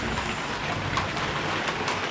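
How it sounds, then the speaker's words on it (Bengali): Heavy rain pouring down in a steady, dense hiss with no pauses, loud and close throughout. "দেখো বৃষ্টিতে অবস্থা কি হচ্ছে"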